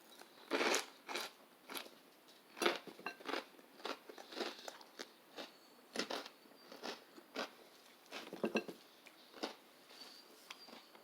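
Firm, crunchy snack bitten and chewed up close, with a dozen or so sharp crackling crunches in irregular bursts separated by quiet pauses, no talking.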